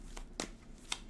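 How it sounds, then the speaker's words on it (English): Tarot cards shuffled in a few quick riffling bursts, close and fairly quiet, with short pauses between the shuffles. "Cards."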